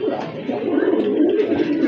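Tiger grizzle pigeon with white and black plumage, cooing softly up close in a steady, murmuring rolling call with no pauses.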